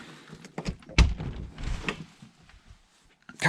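A newly installed front door on an Alaska cabin swings shut with a solid thunk, followed by a few softer knocks and shuffling nearby, with no talking.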